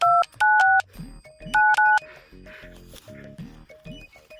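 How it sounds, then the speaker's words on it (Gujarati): A landline telephone number being dialed, several paired DTMF keypad tones in quick bursts near the start, followed by softer clicks and voices talking in the background. "સંજય ફોન કરવો પડશે"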